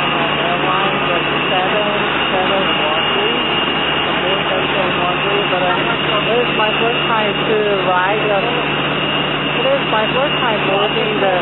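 Steady jet engine roar from a Boeing 777 at an airport during boarding, a loud continuous whine and rush with chattering voices and crowd talk layered over it throughout.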